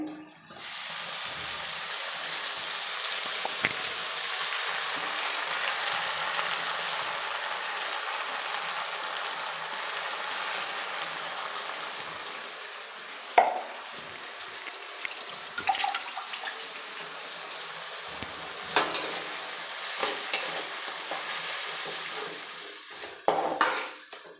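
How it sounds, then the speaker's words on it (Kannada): Ground masala added to fried onions for masala upma with field beans, a loud, steady close sizzle that runs for a long stretch, then eases and breaks into scattered spoon scrapes and clinks against the pan. "ರುಬ್ಬಿರೋ ಅಂಥ ಮಸಾಲೆನ ನಾನೀಗ ಸೇರಿಸ್ತಾ ಇದ್ದೀನಿ ಈರುಳ್ಳಿ ಫ್ರೈ ಆಗಿದೆ"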